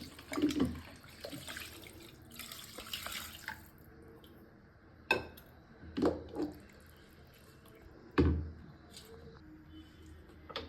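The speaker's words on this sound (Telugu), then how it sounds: "ఇప్పుడు వాటర్ పోసుకోవాలి." Water poured into a cooking pot of salted, mixed mutton for gravy in a home kitchen, with several short splashing pours and drips separated by quiet pauses.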